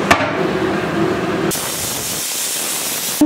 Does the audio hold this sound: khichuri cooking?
yes